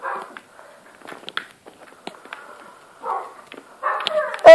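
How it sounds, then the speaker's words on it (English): In-game dogs in a block-built city bark and yip in scattered short bursts, moderately loud, with a sharper cluster of barks at the end. "Anyway, dogs."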